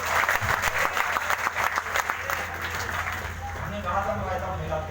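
Audience applause at a Hindi kavi sammelan poetry gathering, a dense wash of clapping that runs steadily through the whole stretch, with a voice talking over it.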